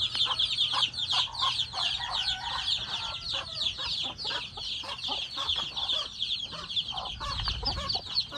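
A flock of breeding chickens clucks and chatters continuously nearby on a farm, a busy layered chorus of overlapping calls with a low hum in the background.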